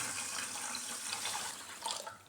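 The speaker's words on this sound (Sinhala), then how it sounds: "දැන් අපි හාල් වලට වතුර දාගමු." Water pours onto raw rice in a pot for kiribath, a soft, steady, quiet splashing stream that swells briefly near the end.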